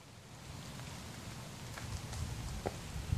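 Rain falls steadily at a disc golf park near a river, a soft even hiss of drops on surfaces with a few scattered louder patters and light rustling.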